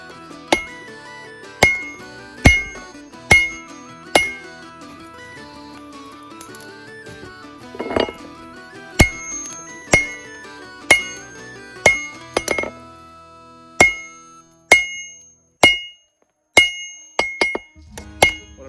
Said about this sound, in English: And there's a larger hammer now.